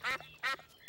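A cartoon duck at a pond gives two loud, nasal quacks close by, separated by a short pause, with a faint third call at the end.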